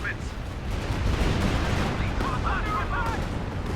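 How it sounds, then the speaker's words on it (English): Calliope rocket barrage fired at point-blank range during a 4v4 US Forces versus OKW battle in Company of Heroes 2: dense, continuous rumbling blasts and crackling fire under a faint voice. "Trying to go in for a point-blank rocket barrage."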